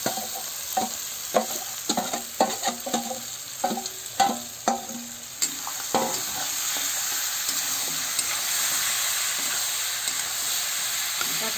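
Raw jackfruit sautés in a fried spice paste, starting with rhythmic spatula scrapes against the pan and settling into a loud, steady sizzle heard up close.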